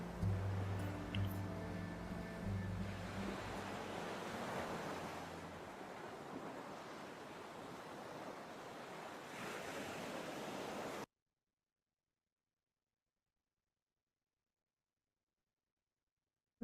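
Water and ocean waves wash in a steady broadband surf roar, with low tonal hum early on, continuing for about eleven seconds before silence.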